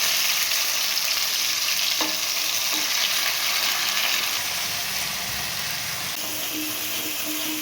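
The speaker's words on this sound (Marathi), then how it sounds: "मसाला आपल्याला व्यवस्थित परतवून घ्यायचा आहे" Ground masala paste with cumin fries steadily in a pan, giving a continuous close sizzle with occasional scrapes and stirring knocks.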